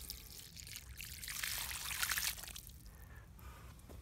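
A liter of water poured out onto tilled field soil, a steady splashing pour that swells toward the middle and then tapers off, heard close up with no one talking.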